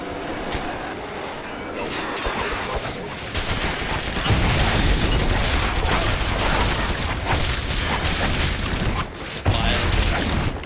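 In the video game Ravaged, firecracker-like explosions pop in quick, crackling bursts over a heavy rumbling din that swells louder partway through, with voices talking beneath.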